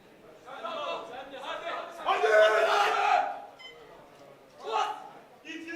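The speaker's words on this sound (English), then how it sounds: "Big support from the home crowd here." A home crowd at the World Sub-Junior and Junior Powerlifting Championships, men's 74 kg classic, cheers and shouts in surging bursts. The loudest swell comes in the middle, then a shorter roar follows near the end.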